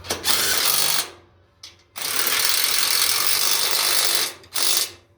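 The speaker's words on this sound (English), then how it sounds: "3/4 inch head, I like to use impact." A loud impact wrench driving bolts with a 3/4 inch head hammers in three bursts: a short rattle, a brief blip, then a long steady run before one final quick burst.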